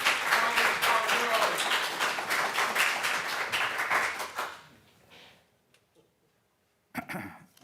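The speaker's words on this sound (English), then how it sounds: "could we just keep the applause to a minimum so we can get through the meeting, please?" Audience applause at a county board of supervisors meeting, dense clapping that fades out after about four seconds, leaving a few scattered claps, a cough and a brief burst of noise near the end.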